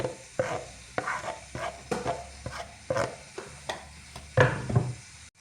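Chopped salad ingredients are tipped and scraped into a bowl, a run of sharp knocks and rustling clatters, close and fairly loud, about a dozen uneven hits.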